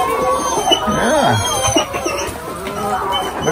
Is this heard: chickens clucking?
yes